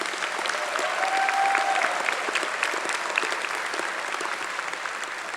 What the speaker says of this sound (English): Let's have a round of applause for all of our award winners.